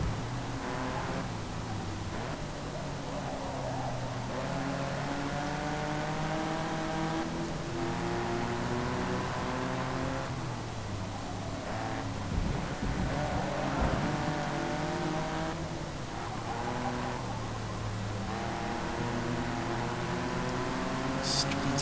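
Race car engines in Forza Motorsport 2, including V8 power, drone loudly and steadily, rising and falling in pitch through repeated gear shifts, with a voice talking over them at times.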